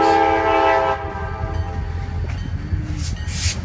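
A CSX freight train horn blares loudly for about a second, then the deep rumble and rattle of the passing train with two locomotives carries on close by, at Taunton, Massachusetts.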